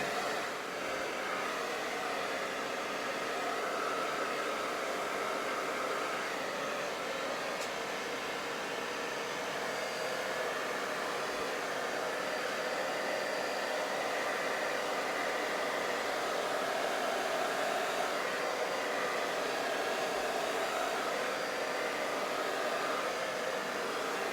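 A hair dryer fitted with a diffuser dries curly hair, giving a continuous, even whooshing roar that holds steady from start to finish, close up and without any voices.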